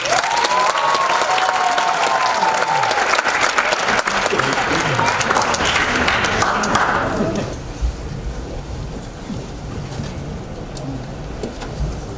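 Applause rises loudly from a crowd at an international festival celebration after a modern dance performance, under a voice, then fades to lighter scattered clapping and murmur in the final seconds.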